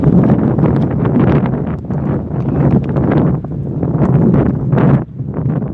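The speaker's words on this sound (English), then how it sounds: "Here comes the wind." Wind buffets an outdoor microphone in a steady, loud roar with gusting swells that dip briefly near the end, rumbling throughout with no talk over it.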